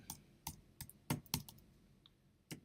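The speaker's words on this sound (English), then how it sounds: "you can type in the update" Keys clack on a computer keyboard in a quiet room, about eight distinct taps in irregular short bursts, close and alone.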